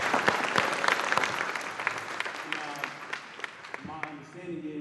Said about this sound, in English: let's give all of our presenters, all of our speakers a round of applause one more time